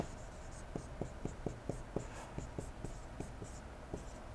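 Pen or marker strokes on a board writing out a calculus derivative solution, a steady series of short scratchy taps and squeaks, close and faint, with no talk.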